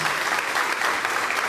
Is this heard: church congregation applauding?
yes